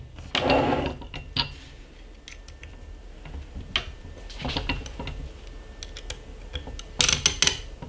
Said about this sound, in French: on serre bien, avec parcimonie, mais pas trop fort